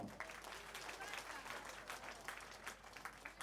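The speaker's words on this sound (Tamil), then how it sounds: "ஒரு கைத்தட்டல் கொடுங்க" A crowd at a Tamil comedy stage show gives a round of applause, with faint, distant clapping spreading through a large audience at a low, even level.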